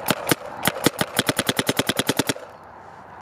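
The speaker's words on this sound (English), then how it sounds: "Sound like you're shooting a little slow?" A gun firing a rapid burst during an efficiency test: about eighteen sharp shots in quick, fairly even rhythm, loud and close, then sudden quiet.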